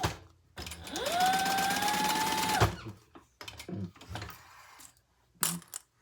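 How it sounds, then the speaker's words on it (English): A sewing machine stitches a line across the bottom of a small crossbody bag, running in one steady whirring burst for about two seconds, followed by a few quieter clicks and handling knocks. "we're gonna stitch a line across the line that we made"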